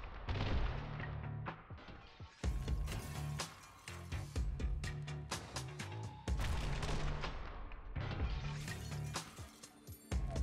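Shotgun blasts and other gunfire in The Hong Kong Massacre, an action shooter, come as loud, sharp broadband bursts at irregular intervals over a low droning music bed, with no talking.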